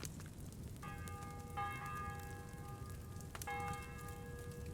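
Church bell tolls twice, each strike ringing out with a long sustained hum over a constant rain-like background hiss, with no voices.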